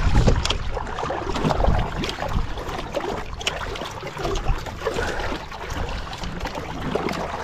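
A small boat, likely a banca, moves across the water, with steady broadband washing and splashing noise and some wind buffeting that go on throughout, close and fairly loud.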